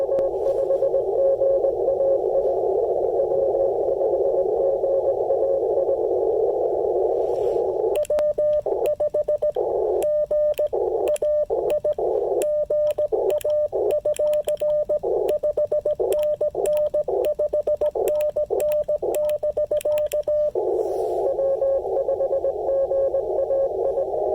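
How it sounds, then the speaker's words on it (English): Loud steady radio tone and interference noise on an amateur HF band, received on an Icom IC-705 at an outdoor park activation, broken into rapid stuttering pulses midway before the continuous drone returns. "Did you see just a ton of noise come on the band?"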